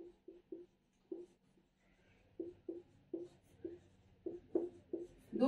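Pen or pencil writing by hand on paper, a series of short scratchy strokes in irregular bursts, close and fairly quiet, with no talking.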